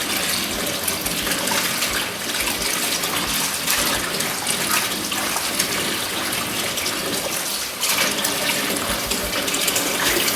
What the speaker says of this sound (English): Then you want to give it a good wash.